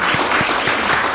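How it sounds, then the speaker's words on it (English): A room applauds at a university art lecture, with close, continuous clapping from the audience and a few sharper individual claps standing out. "we should give her a round of applause"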